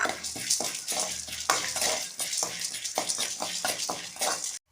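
Cumin, black pepper and coriander seeds dry-roasting in a pan for gram dal chutney, with continuous stirring, scraping and a faint crackle close by, ending abruptly.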